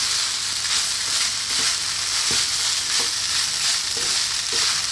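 Chicken fried rice with mixed vegetables is stir-fried in a hot pan, a steady close sizzle broken by regular scraping strokes of the spatula, with no talk.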